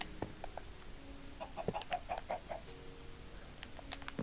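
Chickens in a Minecraft farm pen, four birds clucking in a short cluster of soft, close calls over a quiet background, with a few faint clicks scattered around them.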